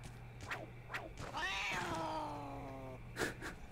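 A cat meows in the Monster Hunter 3 Ultimate video game: one long, drawn-out, wavering meow, clear and fairly loud, set between short game thuds and effects.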